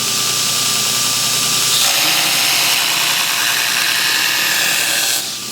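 A knife blade ground on a belt grinder during material reduction, with the blade flipped to grind its second side up to a marked ricasso line; a steady, loud, continuous abrasive whir that runs throughout and briefly shifts near the end.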